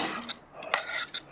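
A spoon scrapes and clinks against plates while food with peas is dished out, a few short metallic taps and scrapes close by with no talking.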